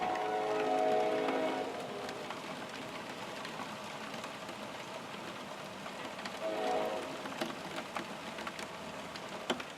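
Steady rain patters on a surface, with a faint rumble of a passing train in the background.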